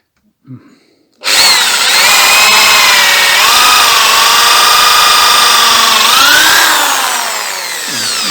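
A Vityaz electric drill under repair whirs loudly and steadily for several seconds after a brief click, its pitch dipping slightly under load, drilling wood, before easing off.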